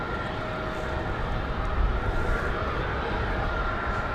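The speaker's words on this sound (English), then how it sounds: "Delta 2164. A320 200 off to Detroit" A Delta Airbus A320-200 takes off at Raleigh Durham airport in the rain, a steady broad jet roar heard at a distance with a faint whine running through it.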